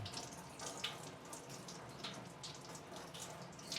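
Water from a tap runs steadily while hands are rinsed under it, producing a faint, continuous splashing hiss with no other sounds.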